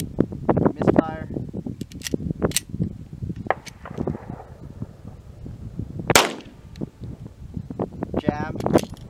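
A 9mm pistol is fired with Venom Brass FMJ ammunition, giving sharp, close reports and mechanical clicks from misfires, spaced irregularly with people talking between shots.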